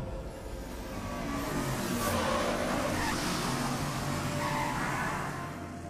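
Steady engine drone of a car driven by the Joker in Batman: Arkham Asylum's Scarecrow nightmare world, swelling gently in the middle and holding at moderate level with no voices over it.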